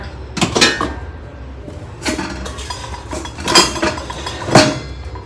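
Metal cooking pots and bowls handled up close, with four separate bursts of ringing clanks and clinks spaced a second or so apart over a quiet background.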